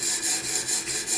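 A CTS-XHP steel knife blade is drawn across a sharpening stone while a burr is raised, giving rhythmic rasping strokes, about five or six even passes, close and steady.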